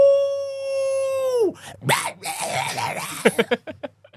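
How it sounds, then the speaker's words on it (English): A long, high, steady dog-like howl holds for over a second, then breaks into a rapid, jagged scramble of yips and clattering noises that trail off in short bursts. "This creature stands on its hind legs, towering over you, and lets out a blood-curdling howl."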